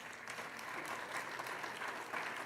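A church congregation applauds during a Spanish-language sermon, a quiet, steady patter of many hands clapping throughout with a few sharper claps rising out of the mass, no talking on top.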